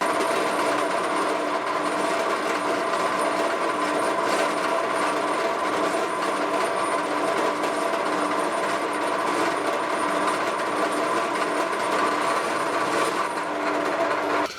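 HSS end mill cutting steel on a ZX7016 mill-drill, a steady loud grinding whir with a continuous metallic rasp that holds unbroken throughout, no voices over it.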